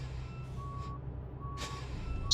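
A truck in American Truck Simulator reverses to line up its trailer, sounding evenly spaced reversing beeps over a low engine rumble, with a brief hiss of air near the end.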